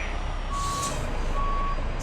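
Reversing beeps from a backing truck in American Truck Simulator sound as two steady tones over a constant engine rumble and faint air noise.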